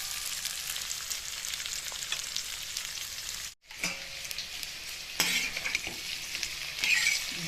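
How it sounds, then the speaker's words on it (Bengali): Okra frying in a pan with oil, a continuous crackling sizzle broken by a brief pause, with scraping stirs of a utensil against the pan close by. "ভালো করে নেড়ে চেড়ে আমি এটা ভেজে নেবো"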